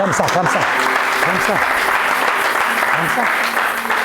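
A stadium church congregation claps and cheers in a dense, continuous wash of applause, with voices calling out and shouting over it throughout.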